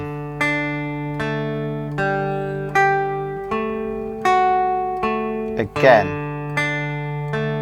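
An electric guitar tuned to DGB plays a song's intro riff in evenly spaced picked notes, ringing and close, with a brief spoken word and a pick scrape near the end.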